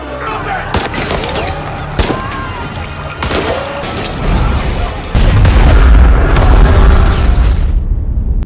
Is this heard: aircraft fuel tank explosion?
yes